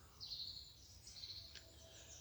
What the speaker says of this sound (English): Only the birds chirping or tweeting in the background